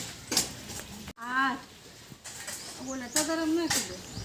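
Farm cow lowing in short bursts, several rising and falling moos close to the microphone, interrupted by a sharp knock and other farmyard noises, with no speech.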